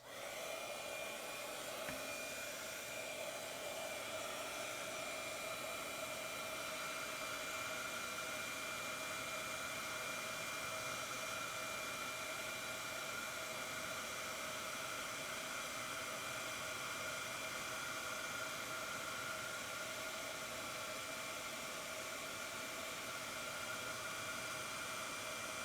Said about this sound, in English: So we're grabbing the embossing gun.